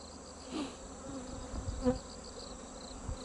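Honeybees hum steadily around hives at a bee farm, a dense continuous buzz nearby with occasional louder individual bees passing close, and no talk.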